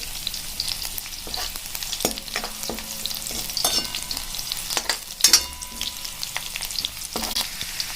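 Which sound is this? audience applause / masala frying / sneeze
masala frying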